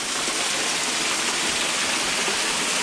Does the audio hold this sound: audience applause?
no